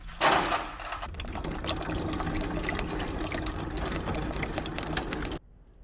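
Coolant drains from the cooling system of a Renault Kadjar 1.3 with a leaking thermostat housing, a steady close splashing and gurgling pour lasting about five seconds before it abruptly stops.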